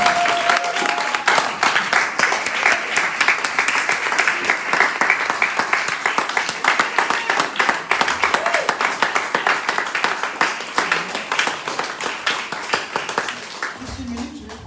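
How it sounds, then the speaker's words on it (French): Church audience applauding loudly at a French-language worship gathering, dense sustained clapping with some cheering that carries on without pause before tapering off near the end, with a voice speaking over it. "je te demande d'acclamer pour toi-même très très fort"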